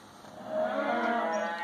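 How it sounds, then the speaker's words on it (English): Cows mooing outdoors, one long drawn-out, moderately distant low call that swells and holds. "Them cows, them bloody cows."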